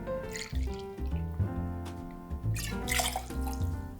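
Fresh lime juice, kola syrup and Blanco tequila poured into a glass, with splashing and dripping liquid in quick bursts over background music.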